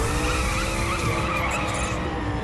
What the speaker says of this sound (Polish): Świetnie brzmi ten samochód